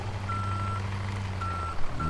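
A truck in Farming Simulator 17 sounds its reversing alarm, three evenly spaced electronic beeps over a constant low engine rumble.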